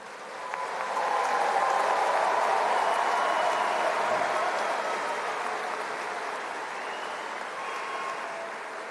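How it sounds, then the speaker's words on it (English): Commencement audience at Baldwin Wallace University applauding graduates, a broad, even wash of clapping that swells in after a quiet start and holds steady for several seconds, slightly distant and without talk. "Let's have a round of applause for every graduate named in today's program."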